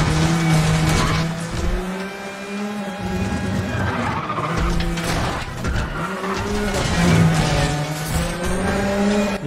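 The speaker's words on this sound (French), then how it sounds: "De bien piler pour pas me manger la bagnole." Car braking hard on a winding road in a driving video game: tires squeal and skid repeatedly over a steady engine drone, loud and close, with no one talking.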